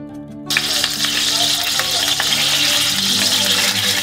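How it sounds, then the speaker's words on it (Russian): Turkey pieces frying in melted butter burst into a loud, dense sizzle half a second in, then keep crackling steadily up close with a few faint utensil clicks and no talking. "В растопленное масло мы кладем куски мяса и обжариваем с двух сторон."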